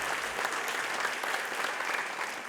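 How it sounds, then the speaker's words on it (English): A short burst of steady audience applause for a student jazz band at a school awards event, even and sustained clapping from a moderately distant crowd. "Let's give them a big round of applause."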